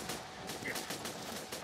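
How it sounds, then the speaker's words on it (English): Rapid bursts of gunfire from the video game Borderlands 2, a dense crackle of repeated shots with a few sharper reports, steady and fairly loud throughout the short stretch with no talk over it. "He's shooting at me."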